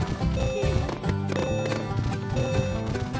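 A horse gallops and neighs in the Xbox 360 video game Toy Story 3, a rhythmic clip-clop of hooves over continuous background music.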